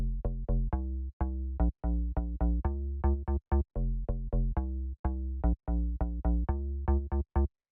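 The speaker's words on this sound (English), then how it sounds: "It's just this kind of like FM dunk type of sound" An FM synth bass with a dunking, plucky tone plays a busy rhythmic pattern of many short, clean notes in a chill house style, loud and alone without any voices.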